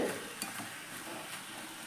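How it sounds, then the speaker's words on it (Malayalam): Pumpkin pieces being stirred in a hot pan over full flame, giving a soft continuous sizzle with faint scraping and a brief utensil clink, nearby and steady, with no talking. "മത്തൻ്റെ കഷ്ണങ്ങളൊക്കെ ചേർത്ത് കൊടുത്തതിന് ശേഷം നന്നായി മിക്സ് ചെയ്തെടുത്തു."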